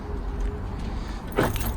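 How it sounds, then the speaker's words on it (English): A Skoda Superb's central locking unlocks with the key, giving one short mechanical clunk over a faint hum. "So I unlocked the car"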